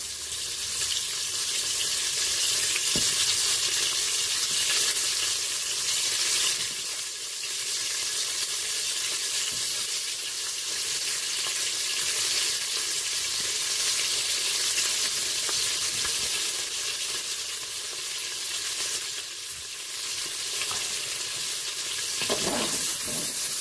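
Lamb shank and onion fry in a Cookeo multicooker, giving a loud, dense, continuous sizzle close by with faint scraping and stirring now and then, no speech.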